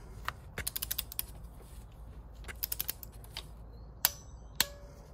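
Sharp metallic clicks from a torque wrench tightening a spark plug on a 2.0 petrol VW Passat B6, coming in quick bursts of ratcheting ticks with a couple of louder isolated clacks near the end, close and fairly quiet.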